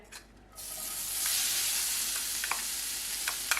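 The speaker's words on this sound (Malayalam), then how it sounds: "എണ്ണ നല്ല ചൂടായിട്ടുണ്ട്. അതിലോട്ട് ഈ അരച്ച് വെച്ചിരുന്ന ഈ കൂട്ടങ്ങ് ഇട്ട് കൊടുക്കണം" Ground coconut paste with salt dropped into hot oil bursts into a bright, steady sizzle that holds at moderate loudness, with a few small clicks of stirring near the end.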